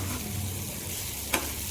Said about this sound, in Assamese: প্ৰথমতে সিজোৱা আলু ভাজিছোঁ